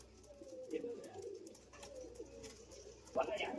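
Guldar pigeons for sale in Bangalore coo softly in repeated low bursts, with a brief louder flutter near the end, while someone talks over them.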